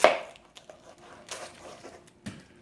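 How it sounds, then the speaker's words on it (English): A sharp knife slices the ends off a red onion on a cutting board: a crisp initial chop followed by a couple of softer cuts and taps, close and alone. "go ahead and just cut the ends off of this red onion"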